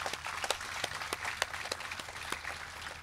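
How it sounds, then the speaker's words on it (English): An audience at the Garma Festival Yolngu Heroes Awards claps for award recipients, with scattered, moderately distant hand claps forming a light, steady round of applause. "One more round of applause."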